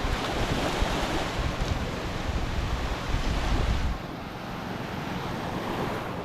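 Sea waves wash onto the shore in a continuous broad roar with wind buffeting the microphone, easing slightly after about four seconds.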